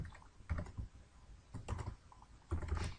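Keys on a computer keyboard are typed in three short bursts of quick clicks, close and fairly quiet, with pauses between bursts and no talking.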